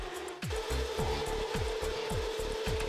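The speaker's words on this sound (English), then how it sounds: "While sawing the flanges, there is a high feed speed." A MEBAsteel 1100 DGA semi-automatic bandsaw grinds continuously through steel flanges at high feed speed, with a steady rasping tone and repeated rhythmic strokes, loud and close, no voices.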